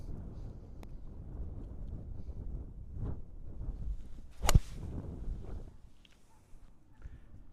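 Wind gusts across a golf course, buffeting the microphone with low rumbling roar and a sharp crack midway, steady and close before easing toward the end.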